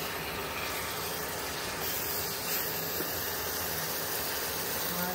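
Hot boiling water hits a pan of frying vegetables and rice, giving a loud, steady steamy hiss and sizzle that holds evenly for several seconds.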